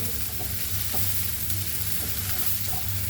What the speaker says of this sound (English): onions are nicely fried